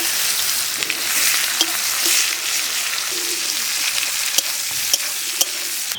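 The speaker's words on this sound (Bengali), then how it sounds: "আর এই পেঁয়াজগুলো আমি কিন্তু খুব ভালো করে ভেজে নেব।" Chopped onions fry in oil with bay leaves, dried red chillies and whole garam masala for a mutton curry, making a loud, continuous sizzle dotted with sharp clicks and scrapes of stirring.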